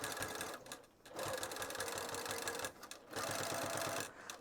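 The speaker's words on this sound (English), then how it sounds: "I'm just going to sew at 1/8 of an inch." A sewing machine runs a 1/8 inch seam through fabric in steady bursts of rapid needle chatter, pausing briefly twice between runs; close and clear, with no talking.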